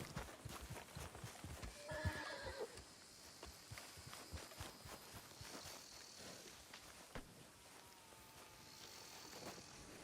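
A horse in the video game Red Dead Redemption 2 whinnies near the start, then its hooves clip-clop steadily at a walk for the rest, fairly quiet and close.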